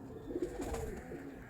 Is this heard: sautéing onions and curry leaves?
no